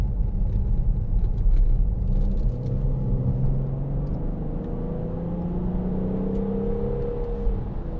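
Audi Q7 6.0 TDI V12 Tiptronic Quattro accelerating, heard from inside as a steady deep engine rumble with rising tones as the revs climb through the gears, continuous and moderately loud.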